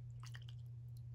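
Water poured into a small cup for baby dolls gives a brief, faint trickle and splash over a steady low electrical hum.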